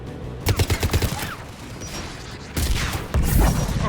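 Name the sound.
guns firing from the tower in video game Mass Effect 3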